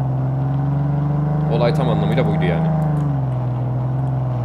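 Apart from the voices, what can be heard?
car engine in video game Ring of Elysium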